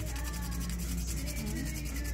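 Sandpaper rubbed steadily against a custom Nendoroid figure made from an Obitsu body, a continuous close scratchy sanding texture with no pauses and no talking.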